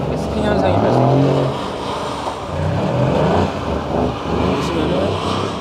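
A 510-horsepower Mercedes-AMG spins out on a wet racing circuit, its engine droning and surging loudly with tire and spray noise, while voices talk over it throughout.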